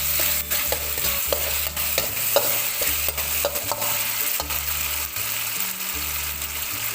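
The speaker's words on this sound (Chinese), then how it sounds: "继续翻炒" Yuba, scallion and bean paste are stir-fried in a wok, with an energetic sizzle and rhythmic metallic scraping of a spatula, close up, repeated strokes roughly every half second.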